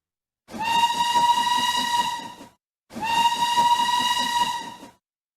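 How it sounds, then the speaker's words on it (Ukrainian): Two long steam train whistle blasts, each about two seconds, sound loud and close with a breathy hiss under the steady tone, separated by a brief pause. "у нас їде синій потяг далеко через осінню долину"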